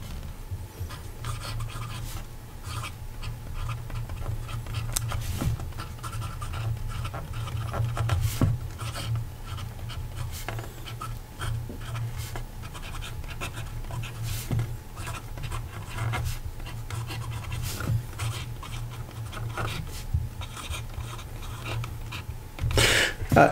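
A Platinum 3776 fountain pen with a firm nib writes on paper, giving a faint, continuous scratching with small strokes and taps spread through the stretch, heard up close with no talking.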